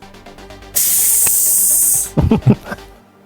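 A voice imitates sizzling with a steady, loud hiss held for over a second, followed by a few quick breathy syllables.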